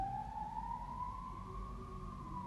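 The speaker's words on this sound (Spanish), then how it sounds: "una sirena." An emergency vehicle siren wails in the background, a single rising tone sweeping steadily upward over a low rumbling backdrop, moderately distant and continuous.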